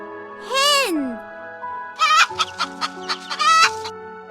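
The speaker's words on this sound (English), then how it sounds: "Hen." A hen clucks in a series of sharp, close calls: one drawn-out squawk first, then a quick run of short, rhythmic clucks ending in another longer call.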